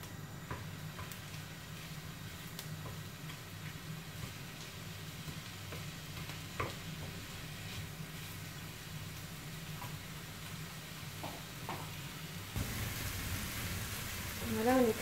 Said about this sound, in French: Je mets ensuite ma viande hachée.